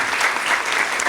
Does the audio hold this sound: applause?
yes